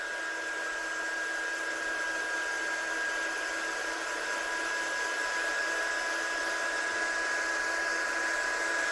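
A handheld heat tool blows hot air over wet watercolour paint, giving a loud, steady, unbroken whine and rush of air close to the listener, with no pauses throughout.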